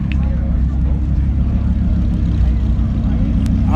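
An Audi R8 Spider idles nearby at a supercar gathering, putting out a loud, steady low engine rumble throughout with no break.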